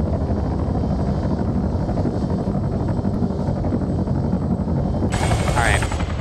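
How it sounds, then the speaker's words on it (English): Helicopters battle in a video game, a loud continuous rotor drone with bursts of rapid gunfire over it and a sharper whooshing sweep near the end, under a commentator's talk. "keep an eye on the helicopter battle"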